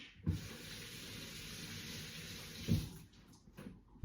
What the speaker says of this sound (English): Wash your taters. Wash, wash, wash, wash.